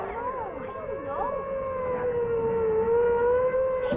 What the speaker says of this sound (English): look at the ambulance